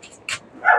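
A pet dog at feeding time in an Egyptian home gives two short, sharp yips or barks, close and fairly loud, with no talking.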